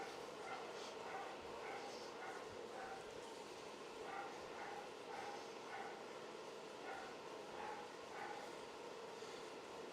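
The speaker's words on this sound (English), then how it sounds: "there's a pup walking by the backyard there" A dog in a backyard gives repeated short barks and yips at a distance, faint and intermittent over a steady background drone, with a voice talking at times.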